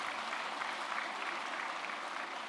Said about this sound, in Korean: 우리 수고해 주신 수성극 합창단에게 큰 박수 부탁드리겠습니다.